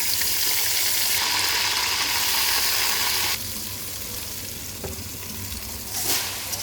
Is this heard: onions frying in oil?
yes